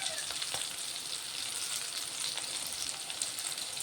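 Sliced tomatoes dropped into hot oil with half-fried green chillies, a steady loud broadband sizzle and crackle throughout with a few sharper spits, no voices.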